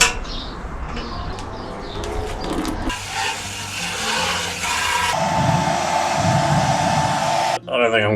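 A hair dryer blows into the empty fuel tank of a Triumph Tigress motorcycle, a loud continuous whooshing hiss whose pitch and airflow shift as the nozzle moves, then cutting off abruptly near the end, no voices.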